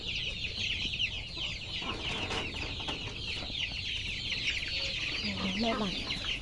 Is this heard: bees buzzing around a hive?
no